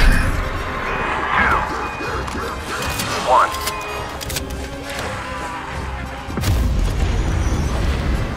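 Artillery strike explosions in Call of Duty: Black Ops Cold War Outbreak mode, a heavy booming blast rising near the end over dense battle noise, crashes and an electronic announcer voice.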